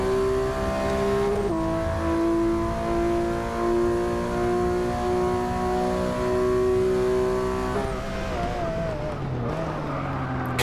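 A race car in Forza 6 roars steadily at high revs, holding a loud sustained engine drone with a gear shift partway, then the pitch drops and wavers as it slows near the end.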